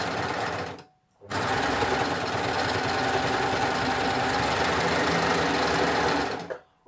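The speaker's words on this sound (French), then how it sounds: "je suis en surjet 4 fils et je fais faire ma couture d'assemblage" A Baby Lock Ovation serger runs a steady, close, loud 4-thread overlock assembly seam on a knickers crotch piece, with a brief stop near the start before the continuous whirring stitching resumes.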